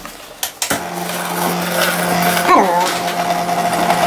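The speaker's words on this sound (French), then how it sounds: "son broum-broum, Gisèle met ses filets de truites qu'elle va hacher menu-menu" A food processor minces trout fillets finely for a trout mousseline, its motor whirring in a loud, sustained buzz after a few short knocks at the start, with a slight rise in pitch near the middle.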